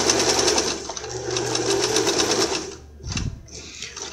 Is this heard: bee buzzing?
no